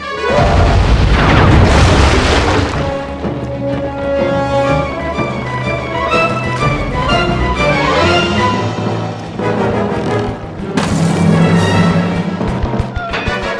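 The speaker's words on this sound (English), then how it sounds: "Load the cannons and prepare to come about." Cannon fire in the Sly Cooper video game during a pirate ship harbor scene, with heavy booming blasts near the start and again late, over loud, sustained orchestral game music.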